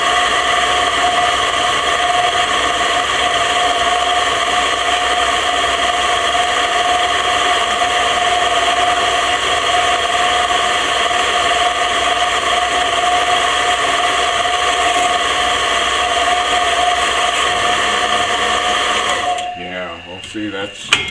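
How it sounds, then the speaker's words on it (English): A drill press drills out a part of a Ford carburetor with a steady, close motor whine and high tonal hum that runs unbroken, then stops abruptly near the end, followed by brief handling clatter. "I'm going to proceed to drill it out with the drill press"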